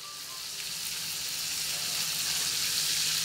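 A whole fish sizzles in a hot wok, a steady bright hiss of frying oil that grows slightly louder, close up with no talk.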